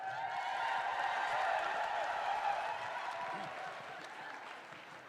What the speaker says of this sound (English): Let's give a big round of applause for Chris Scribe.